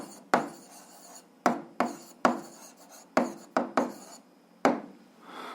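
A pen makes short, scratchy strokes on paper while an answer to an algebra exercise is written by hand. About eight quiet, separate bursts are close by, with soft pauses between them.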